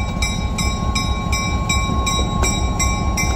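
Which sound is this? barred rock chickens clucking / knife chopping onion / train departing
train departing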